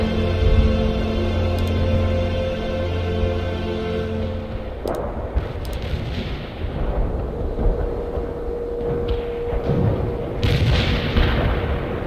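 Artillery fire in the real-time strategy game World in Conflict: continuous heavy booms and rumbling blasts under a droning low hum, with sharp bursts near the middle and end, loud and dense, no talking.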